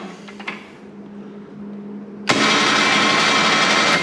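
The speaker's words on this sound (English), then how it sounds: "So what I'm going to do is operate the control and actually pull the winch out" Electric winch on a 2022 CFMOTO UFORCE 1000 UTV paying out line: a faint low hum and a few clicks, then the motor kicks in abruptly with a loud, steady whirring drone that holds to the end.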